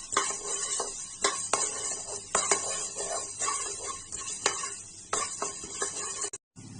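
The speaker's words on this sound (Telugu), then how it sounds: "ధనియాలు వేసుకొని లో ఫ్లేమ్లో మాత్రమే వేయించుకోవాలి." Coriander seeds dry-roasting in a pan on a low flame for tomato pickle, stirred with a utensil that gives repeated scraping clicks and rattles against the metal at an uneven pace, close and fairly quiet.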